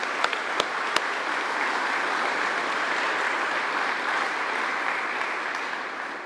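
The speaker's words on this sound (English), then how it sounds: "So if I can get a good applause for that" Steady, full applause from a crowd at a fire station grand opening and ribbon cutting, broad and continuous with a few sharp claps at the start, fading slightly at the end.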